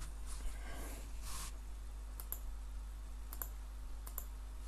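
A computer mouse clicks a few times, light sharp taps spaced a second or so apart over a steady low electrical hum, close and quiet, with no speech.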